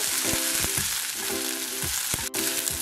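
Small onions and garlic fry in hot oil for a chutney, giving a steady, close sizzle throughout with a few soft spatula stirs and scrapes.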